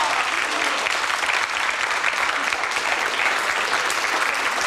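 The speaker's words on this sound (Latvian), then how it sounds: "Aplausi." Steady, dense applause from a sizable crowd at a school quiz competition semifinal, continuous clapping at an even level throughout with no pauses.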